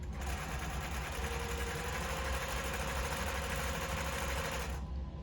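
A zigzag sewing machine sews the long side of a buttonhole with a narrow stitch, giving a steady, close mechanical hum that runs without a break for about five seconds before cutting off.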